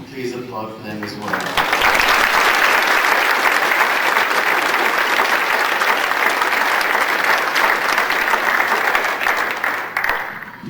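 Sustained applause from a spring concert audience rises quickly and holds steady, loud and dense, with a brief voice at the very start before the clapping takes over.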